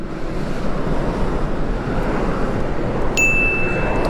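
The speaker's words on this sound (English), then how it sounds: "Oh, that wind feels so good." Steady broadband wind rush fills the whole stretch, loud and continuous like air buffeting a microphone at a pool, with a brief high electronic tone appearing near the end.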